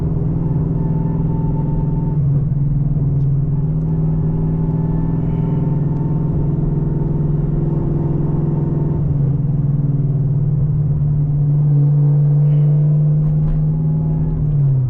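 A Chevrolet Camaro ZL1 with a 6-speed manual drones steadily after a downshift on a quiet night drive through a ghost town. The engine's deep, loud hum shifts pitch a couple of times, with no talking.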